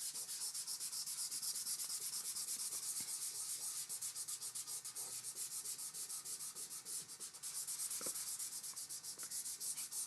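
Vigorous rubbing on drawing paper over a board, part of a landscape sketch: quick, rhythmic scrubbing strokes repeat continuously at a quiet, close level with no voices.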